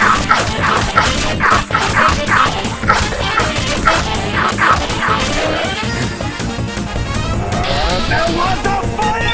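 A dog barks repeatedly in the video game Fallout 4, a run of sharp, loud barks in quick rhythm over game noise, fading into busier background sound later on.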